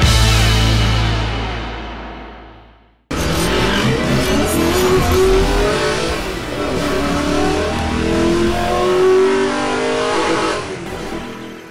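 A 2024 Hyundai Kona Electric drives along with a steady, loud, continuous rush of road and tyre noise and a smooth hum after a brief quieter opening.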